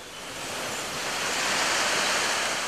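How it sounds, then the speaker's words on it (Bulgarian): Rushing waterfall on the Selchenska river, a full steady broadband roar of falling water that swells slightly, close and loud with no voices. "водопадите Големия скок и Малкия скок"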